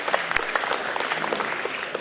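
Brief burst of audience applause during an evening presentation, a crowd of hands clapping in quick, uneven patters that stay fairly loud for two seconds.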